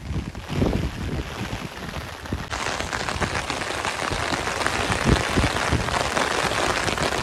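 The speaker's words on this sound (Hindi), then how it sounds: "कितनी तेजी से हो रही है बारिश गाइस, फुल स्पीड में आ गई अभी।" Heavy rain pours down steadily nearby, a dense, continuous patter drumming on surfaces with no voices.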